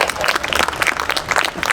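An audience at a city State of the City address in Paterson breaks into applause, a dense, close burst of many hands clapping steadily throughout with a faint crowd murmur.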